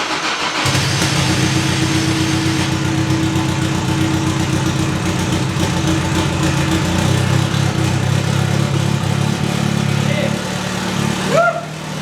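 Rod Millen's Pikes Peak Toyota Tacoma race engine runs loud and steady up close, a rough, constant roar that holds for about eleven seconds before cutting off abruptly.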